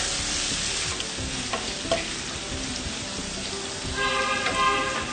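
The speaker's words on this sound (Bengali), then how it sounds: "এবার এগুলোকে একটু ভালো করে মিশিয়ে নিচ্ছি" Salt, garam masala, chopped green chilli and cumin are stirred in a pan with a loud close sizzle and repeated scraping strokes, and the hiss swells near the end.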